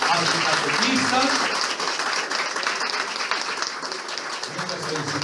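A crowd at a church celebration for children and catechists breaks into loud, sustained applause, many hands clapping densely for several seconds while a voice speaks over it.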